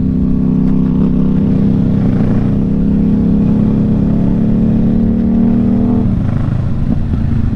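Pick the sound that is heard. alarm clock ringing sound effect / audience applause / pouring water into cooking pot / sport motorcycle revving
sport motorcycle revving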